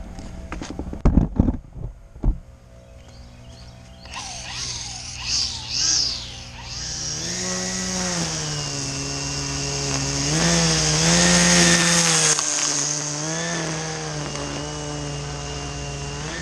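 A Milwaukee string trimmer edging a lawn, heard after a few clunks as a close, loud, sustained motor whine whose pitch rises and dips as the line cuts, running on for over ten seconds.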